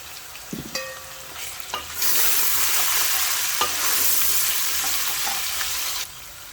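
Whole spices such as black peppercorns, cloves and black and green cardamom hit hot oil for aloo gosht, starting with a few stirring clinks before a loud, steady sizzle swells and runs for several seconds.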